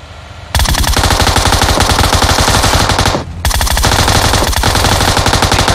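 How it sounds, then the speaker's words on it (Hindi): Sustained automatic machine gun fire in PUBG Mobile, a dense, loud stream of rapid shots running almost continuously, with a brief dip partway through before the burst resumes. "अबे एमएस मशीन गन"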